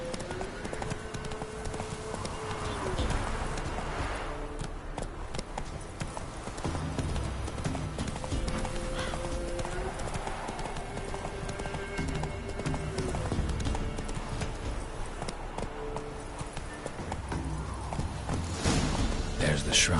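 Roach, Geralt's horse in The Witcher 3, clip-clops along at a steady gait, hoofbeats running continuously under ambient game music and effects throughout.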